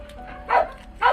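A small, nearly blind dog gives two short barks about half a second apart, close by over quiet background.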